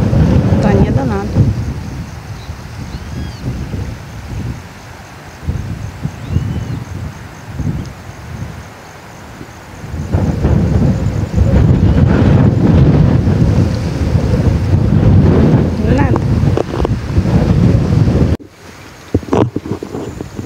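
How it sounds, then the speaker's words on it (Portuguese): Strong gusting wind buffets the microphone during a tilapia fishing trip by the water, a loud continuous roar with surging rumbling gusts that drops away briefly near the end. "Ventania danada."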